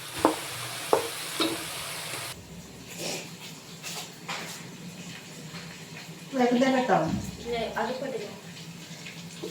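Onions sautéing in a pan give a steady close sizzle with stirring scrapes, and a voice talks over the frying at times.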